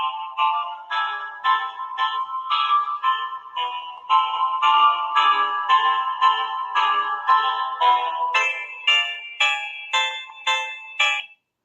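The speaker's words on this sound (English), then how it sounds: "I'm just gonna play something just to show you like the speaker of the phone" A melody plays through the small built-in speaker of a budget R250 smartphone, a bright, thin tune of plucked notes with a steady rhythm and no bass, heard alone.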